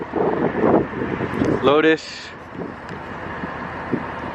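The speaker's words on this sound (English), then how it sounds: "Sorry about the wind. It is definitely windy." Wind buffeting a microphone outdoors on a cold, windy day, a steady low rumble running under a man's speech throughout.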